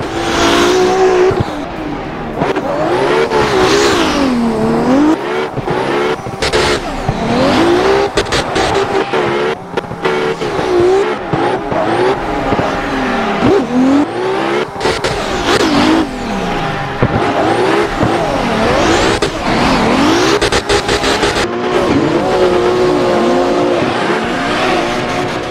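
A loud, continuous BMW drift car engine in a video game, revving up and down in sweeping waves with occasional tire squeal, steady throughout.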